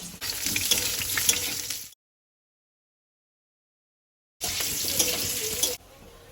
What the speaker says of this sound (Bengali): তেলটা গরম হয়েছে আলুগুলো আগে ভেজে নেব